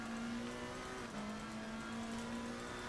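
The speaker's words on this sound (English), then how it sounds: "McLaren sounds great" McLaren race car engine in a racing video game holding a steady, droning high rev with a brief dip and shift partway through, continuous and fairly quiet.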